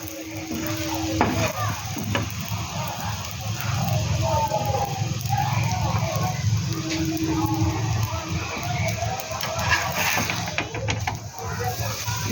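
Sago paratha frying in oil in a home kitchen pan, a steady soft sizzle with small clinks and scraping of a utensil throughout, fairly quiet.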